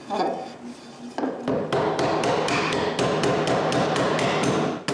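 A dovetail joint in mahogany and maple is tapped together to test the fit, a rapid series of about fifteen sharp, close wooden knocks in an even rhythm, loud and dry.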